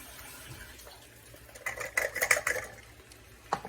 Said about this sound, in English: take your tomatoes and pour them in